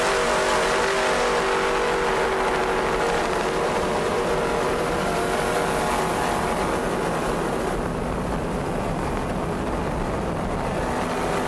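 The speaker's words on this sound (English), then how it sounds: "Ramada Offshore engines sound excellent" Offshore racing powerboats at the 1993 Suncoast Offshore Grand Prix in Sarasota roar with a loud, continuous, heavy engine drone that holds steady throughout. No talking.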